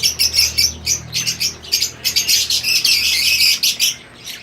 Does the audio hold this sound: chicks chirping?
yes